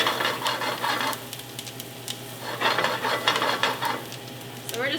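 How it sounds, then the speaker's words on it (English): Onions sautéing in a pan for a weekday dinner, a steady close sizzle broken by bursts of stirring and scraping, with occasional clinks of a utensil against the pan. "So we're just gonna let those babies saute a little bit."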